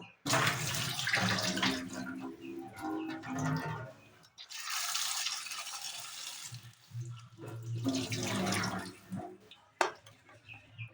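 Running water splashes and sloshes as star fruit is rinsed by hand, in uneven surges with brief pauses and drips.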